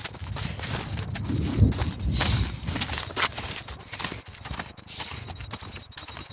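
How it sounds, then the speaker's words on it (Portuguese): Horse hooves clip-clop in a steady walking rhythm across the whole stretch, fairly close, with faint rustling and a bird in the background. "Olha, tem um cavalo."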